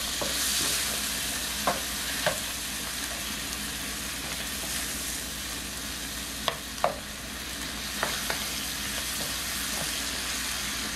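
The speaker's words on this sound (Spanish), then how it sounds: "Colocamos los camarones y los sofreímos ahí muy bien." Shrimp sautéing in a pan give a steady, close sizzle throughout, with sharp utensil scrapes and clacks from stirring at intervals; no one speaks.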